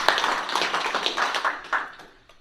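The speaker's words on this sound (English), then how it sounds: "We're going to give Bill a round of applause." A bonsai seminar audience claps for a presenter, a brief patter of scattered hand claps that thins out and fades within a couple of seconds.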